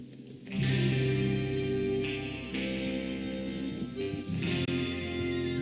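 Horses ridden in the video game Red Dead Redemption 2, a dense continuous rumble of hooves and gallop with a steady game soundscape beneath, loud and sustained with small surges, no speech over it.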